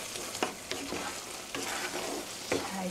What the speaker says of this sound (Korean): 파마산 치즈 1 테이블스푼 넣어주시고요. 고루 살짝 저어주시고요.